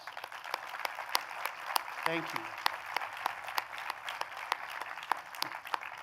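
An audience at a university president's convocation address applauds steadily, with sharp individual claps across a sustained wash, while a speaker briefly talks over it.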